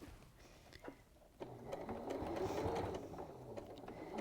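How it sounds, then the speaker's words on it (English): A sewing machine stitches quilt pieces together, a soft rapid mechanical whir that begins quietly, then runs more steadily and a little louder, close by. "So I'm going to sew off my."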